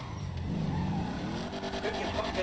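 A Trans Am roars in GTA 5 Online, its engine revving hard through a gear change during a chase, loud and steady with tire noise mixed in and voices talking over it.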